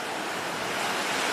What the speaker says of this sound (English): I'll zoom into the waves.